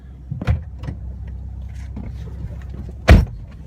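Low, steady engine and road rumble from a car being driven, heard from inside the cabin, with a couple of sharp knocks or clicks cutting through.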